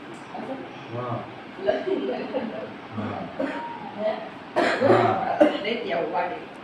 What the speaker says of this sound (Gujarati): જો મમ્મીને બહુ ઉધરસ